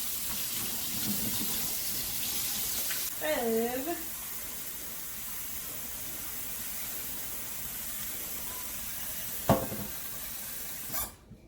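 Rice for Jamaican rice and peas being washed under a running kitchen tap, a steady hiss of flowing water with a few splashy knocks and clatters, and a voice heard briefly near the start.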